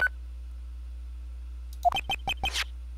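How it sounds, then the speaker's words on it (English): A phone ringtone playing the Steel Samurai theme from the Ace Attorney game, heard as a short run of four bright, evenly spaced melodic tones with a final rising flourish, following a quiet stretch. "Hey, that's the Steel Samurai theme song, isn't it? I don't like the sound of this ringtone right now."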